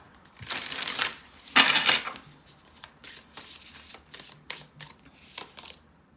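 Tarot cards shuffled by hand, with a loud crisp riffle burst early on followed by a run of lighter, uneven card slaps and flicks, close and alone without talk.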